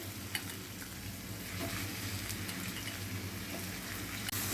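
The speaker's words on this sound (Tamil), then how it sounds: "இதையும் கொஞ்சம் நேரம் அந்த எண்ணெயிலே வதங்கட்டும் நல்லா கலக்கி விட்டுக்கலாம்" Green turkey berries (sundakkai) fry in oil with sautéed onion and tomato for a Tamil kuzhambu, giving a soft, steady sizzle with occasional stirring scrapes and a sharp clink near the end.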